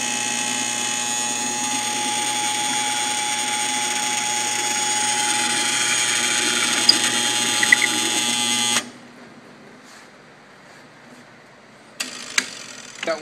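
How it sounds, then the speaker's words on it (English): A drill runs loud and steady with a high whine as it bores through an oak wine barrel stave, then cuts off, leaving quiet with a few clunks afterward. "Got one hole drilled."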